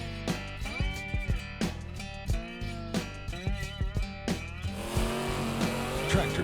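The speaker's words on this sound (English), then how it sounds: "Tractor pulling." Loud, roaring Limited Pro Stock pulling tractor engines at a charity tractor pull, rising and falling in pitch as the motors strain and rev hard, a continuous powerful drone with repeated surges.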